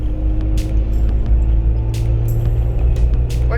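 Jeep Wrangler JK on 37-inch tires, engine running at high RPM while climbing a hill, a loud steady low drone with constant road rumble throughout.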